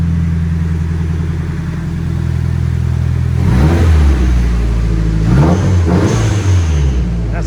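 A Nissan S14 Kouki with its factory turbo engine and a downpipe exhaust idles steadily, then revs sharply twice, the loud close engine note rising and falling with each blip.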